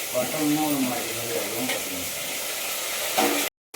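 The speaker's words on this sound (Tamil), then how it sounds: "வெங்காயம் போட்டாச்சு வெங்காயம் நல்லா வதங்கிட்டு இருக்காங்க" Onions fry in a pan with a steady loud sizzle and occasional stirring while a voice talks over it, then it cuts off sharply near the end.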